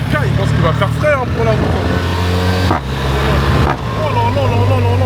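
A BMW GS 1300 motorcycle engine in central Tangier rumbles close and loud, rising and falling in several revs with two brief dips, while someone talks over it.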